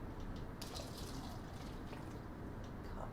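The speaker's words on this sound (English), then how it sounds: "I'm going to pour half a cup of warm water into 4 different" Warm water is poured into cups, a soft, fairly quiet trickling and splashing stream with a few brighter drips, close and steady with no talk over it.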